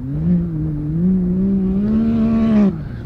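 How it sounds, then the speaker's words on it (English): A loud, sustained engine drone holds a high pitch with a slight rise, a Can-Am Maverick X3 off-road vehicle over-revving nearby, then drops off abruptly near the end. "Sounds like it's really over revving."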